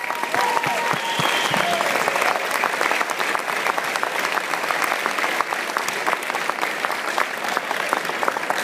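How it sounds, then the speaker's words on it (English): Applause from a conference audience follows a keynote speech at a CEO national conference, steady and dense, filling the room for the whole stretch with no voices on top. "Let's give a big round of applause to Allie and Chuck, everyone."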